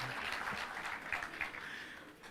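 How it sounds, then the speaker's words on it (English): Faint, steady applause from a seated audience greets Honorable Junet at a Kenya Kwanza/ODM parliamentary group meeting in Karen, a soft wash of many hands with no single claps standing out. "Let us give Honorable Junet a hand of applause."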